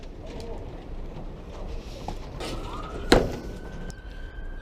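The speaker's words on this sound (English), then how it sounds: "I don't know why they have to have them sirens on at this hour of the morning." A distant emergency vehicle siren wails early in the morning through busy outdoor ambience, a long steady tone rising over traffic-like noise, with a sharp knock midway.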